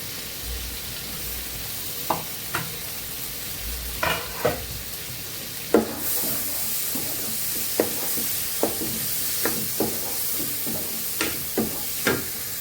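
Tomato, fried potato and chopped green chilli sizzle in a pan for a spicy jackfruit paneer masala, with repeated spatula scrapes and knocks over a steady hiss that swells louder midway.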